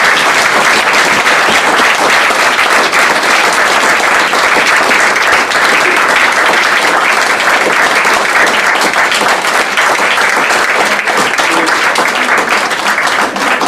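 Sustained, loud applause from an evening awards audience honouring West Dorset Local Champions, a dense and steady wash of clapping filling the room for the whole stretch without any voices.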